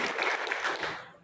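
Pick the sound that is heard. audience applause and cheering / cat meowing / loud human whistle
audience applause and cheering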